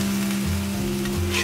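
Coarse chili and shallot paste fries in plenty of oil for fish balado, giving a steady, close sizzle with a low hum underneath and no voices.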